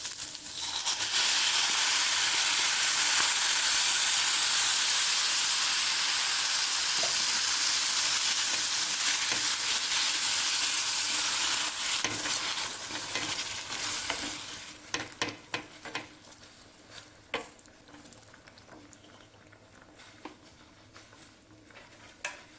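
Chopped green chilies and curd hit a hot pan for chicken biryani, a loud close sizzle and hiss for about fourteen seconds that then dies down to faint crackles and stirring scrapes.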